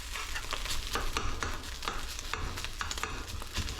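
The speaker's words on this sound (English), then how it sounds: "because I have to fry the rice first." Rice frying in a hot pan, a steady close sizzle broken by repeated scraping stirs, with no talk.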